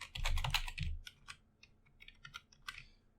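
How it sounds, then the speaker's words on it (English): Typing on a computer keyboard, a quick flurry of close, crisp key clicks at first, then sparser individual taps, with no talking. "So let us just type here Adam,"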